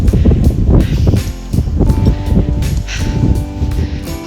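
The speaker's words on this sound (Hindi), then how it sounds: "हवा चल रही है" Wind gusts outdoors on a mountain trek beyond Mana toward Vasudhara, a loud broadband rush buffeting the microphone with uneven surges and lulls, footsteps and faint rustling mixed in.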